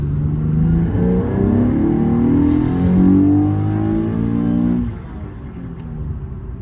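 A Nissan 370Z engine pulling hard on the road, a loud, close, rising growl that builds for several seconds before easing off into a lower rumble.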